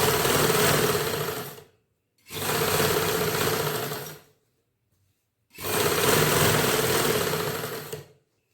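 A sewing machine stitches lace or piping onto the round hem of a ladies' suit in three steady bursts of whirring, separated by brief silent pauses, loud and close with no talking.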